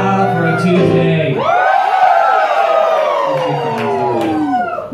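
Passengers on a Norwegian cruise ship sing a song together as a crowd, a loud swell of massed voices holding long sung notes that rise and slowly fall, with cheering mixed in.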